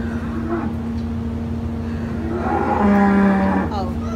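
A cow moos on a farm where the cattle wait to go out to pasture, a single drawn-out low call rising in the second half over steady background hum.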